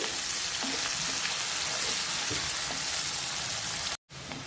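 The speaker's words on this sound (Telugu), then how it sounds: "తర్వాత కొద్దిగా కరివేపాకు వేసేసి వీటిని మనం వేపుకోవాలి." Green chillies and curry leaves fry in hot oil in a pan for chicken curry, a dense continuous sizzle close up with faint stirring, cut by a brief silence near the end.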